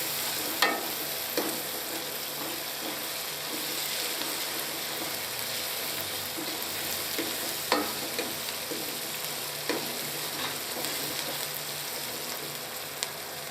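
Green chilies fry in a pan for an aloo curry with a continuous, even sizzle and a few sharper crackles and stirring knocks scattered across it, heard up close with no talking.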